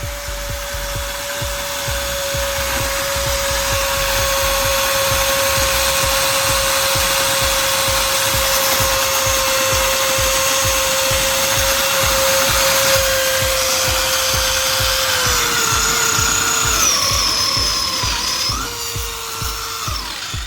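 Overloaded brushed DC motor runs hard and overheats, giving a loud, steady high-pitched whine with a fast buzzing pulse that drops in pitch and wavers near the end as the motor falters.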